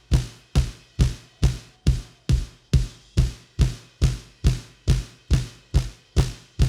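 Snare drum hits captured by a bottom microphone blended with a sample during mixing, about two per second in a steady even rhythm, each a sharp close crack with a short rattling decay, with no talking.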